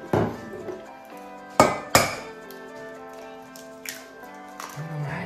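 Whole eggs are cracked into a bowl while mascarpone cream is being made, giving a few sharp shell knocks against the rim with short pauses between them. The sounds are close and dry, and nobody speaks.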